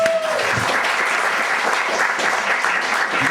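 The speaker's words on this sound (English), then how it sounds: "Chris Schaefer, give him a round of applause" A comedy club audience gives a comedian a round of applause, a dense, steady burst of clapping close and loud throughout.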